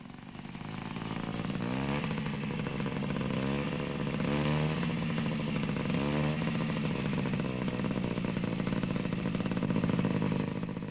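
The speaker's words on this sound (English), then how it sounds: "this Italian scooter is fitted with a specially designed dual control to make learning to ride safer on the highway" An Italian scooter fitted with dual learner controls runs steadily on the highway, its small engine buzzing loud and close with rising and falling revs throughout.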